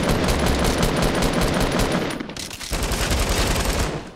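Gunfire in the video game Fortnite: loud, continuous rapid automatic shots, a brief dip and pause near the middle, then another sustained burst.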